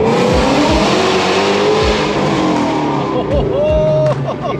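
A 2020 Ford GT350 with bolt-on modifications accelerating hard in first gear, its engine revving loud and close with a rising roar and repeated sharp pitch swoops, tire noise under it, ending in a quick shift.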